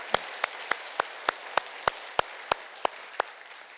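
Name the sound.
church congregation applause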